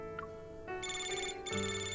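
A phone alert from the Love and Deepspace game plays as a bright, steady electronic ringtone with layered tones that step upward, clear and continuous for two seconds with no talk over it.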